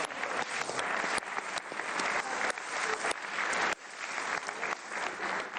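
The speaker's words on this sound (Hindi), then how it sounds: "तालियां बजाइए पाकिस्तान को।" Applause from a studio audience at a comedy show, sustained clapping of moderate loudness with a few brief dips and surges, many hands together and no speech over it.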